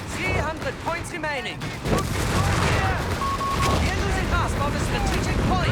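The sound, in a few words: Whizbang rocket barrage explosions in Company of Heroes 3 video game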